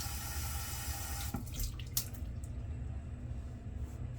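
Water runs steadily from a tap to wet a shaving brush, a constant rushing hiss with a couple of brief splashy changes as the brush meets the stream.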